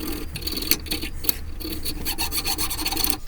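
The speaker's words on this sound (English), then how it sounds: "we're going to take this file, and we're going to use the corner first. We're going to scratch at the thicker rust." A hand file rasps at thick rust on a Pontiac G6 brake part in quick, close, repeated scraping strokes, loud and gritty with no speech.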